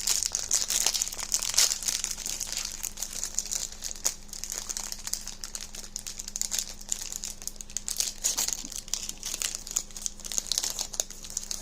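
Biscuit ration packets are handled up close with continuous bright crinkling and rustling of plastic wrappers, steady and fairly quiet, with occasional sharper crackles.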